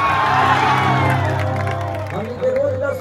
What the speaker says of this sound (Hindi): इसके लिए हल्ला करिए ताली।